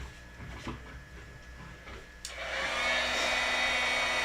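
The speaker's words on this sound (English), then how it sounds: "let's see if I have my heat tool down here" A heat tool switches on after a few faint clicks and handling noises, then blows with a steady, loud whoosh to dry pigment ink on a paper craft piece.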